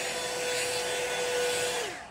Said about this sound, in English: I love this blow dryer.